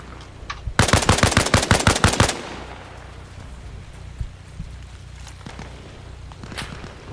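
Automatic gunfire in the military shooter game Arma Reforger rips out as a fast, loud burst of about a dozen shots, followed by scattered quieter distant shots and ambient noise.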